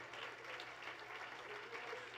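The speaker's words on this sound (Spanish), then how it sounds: "Ese aplauso es para ti, Señor" Congregation applauding in church during a sermon, a steady, even wash of clapping that stays faint and distant for the whole stretch, with no voice on top.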